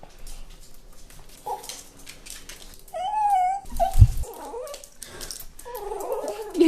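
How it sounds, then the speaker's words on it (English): A dog cries and whimpers very close up, with high wavering whines and heavy breathing across the stretch, some louder squeals near the middle, and no talking. "hear his cries and heavy breathing very close up"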